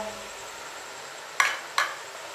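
Chicken with turmeric, red chilli, garam masala and coriander frying in a pot gives a low sizzle, then two sharp spoon scrapes against the metal near the end, close and without talk.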